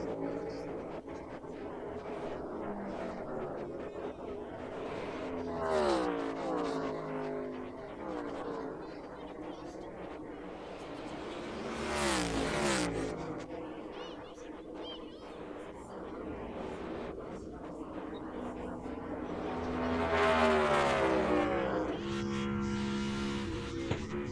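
NASCAR stock cars on the final lap at Pocono roar by at a distance, engine notes rising and falling with sweeping passes, while a commentator talks over the race sound throughout.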